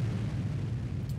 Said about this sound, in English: And now I can launch as many explosions as I want.